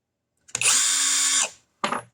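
A SCANS 20V brushless impact driver drives a screw in one loud, close, high whirring burst of about a second, followed by a short second burst.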